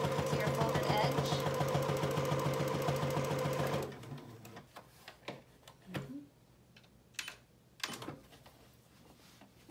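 A sewing machine runs in a fast, even, continuous whir while stitching close to the folded edge of a child's apron, then stops abruptly, leaving scattered clicks, handling noises and someone talking.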